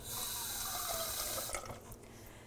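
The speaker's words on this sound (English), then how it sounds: "Just put a little water in here to kind of get it all together" Water pours steadily from a tap or container into a molcajete of browned meat, a continuous close splashing stream that tapers off near the end.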